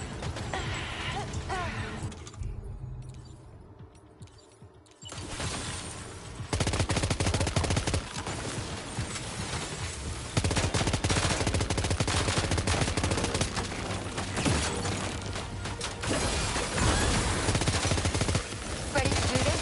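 Gunfire rattles through a battle in the video game Death Stranding 2, with dense sustained shots and bursts after a short lull, under background noise and occasional voices.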